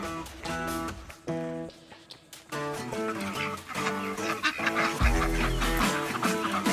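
Group of farm ducks quacking loudly and repeatedly, overlapping nasal calls close by in a busy chorus, with a louder burst near the end.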